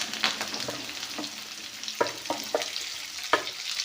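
A dried red chilli fries in hot oil, giving a steady close sizzle broken by several sharp scraping stirs of a spatula in the pan, with no voices.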